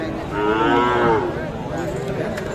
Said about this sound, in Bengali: এই দেখছেন এই গরুটা